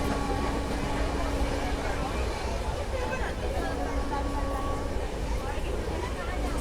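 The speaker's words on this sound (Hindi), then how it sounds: "ये सामने आ गई नई दिल्ली चंडीगढ़ शताब्दी एक्सप्रेस।" The New Delhi–Chandigarh Shatabdi Express rumbles past on the line with steady rail clatter and wheel noise, heard close and continuous, with voices murmuring faintly underneath.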